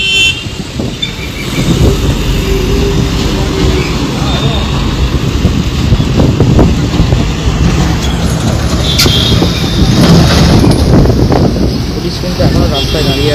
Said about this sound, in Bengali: হাওয়াও খুব জোরে দিচ্ছে, বৃষ্টিও পড়ছে।